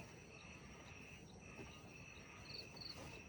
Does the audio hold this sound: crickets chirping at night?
yes